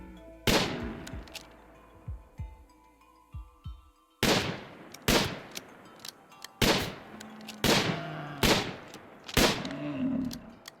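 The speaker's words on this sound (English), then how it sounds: "Just making sure he's shooting at the bull." Gunfire in the video game Rimworld as a colonist shoots at a bull: sharp, loud shots in irregular bursts, a few spaced cracks then quicker clusters of repeated reports over a faint background.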